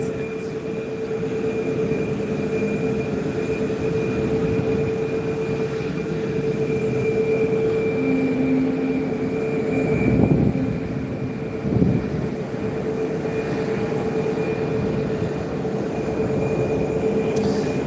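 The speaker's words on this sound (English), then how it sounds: "Here's the Ryanair just coming in. There's the Ryanair from Madrid." A Ryanair jet from Madrid arrives at Gran Canaria Airport, producing a sustained, distant engine roar with a steady whine that swells slightly midway before settling, and no voices.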